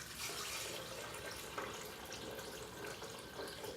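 Tap water pours into a blender jar for homemade dairy-free milk, a soft steady gush and splash, fairly quiet and close.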